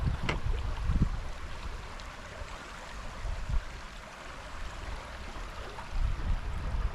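Water of Wilson's Creek flowing near the old Gibson Mill site, a steady broadband rush with low rumbling gusts of wind noise on the microphone.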